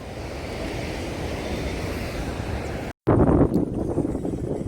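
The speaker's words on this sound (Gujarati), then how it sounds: "પાણીનો અવાજ તમને આવતો હે" Water rushes at Ranjit Sagar dam in Jamnagar as a continuous broad roar, mixed with wind buffeting the microphone. The sound cuts out for a moment midway, then comes back louder.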